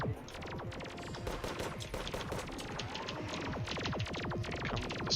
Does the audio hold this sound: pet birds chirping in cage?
no